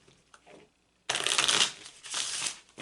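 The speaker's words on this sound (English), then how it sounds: "The sound that you'll be hearing is me shuffling the cards." Tarot playing cards shuffled close up, with a faint brief riffle followed by two loud, dense bursts of flapping card noise.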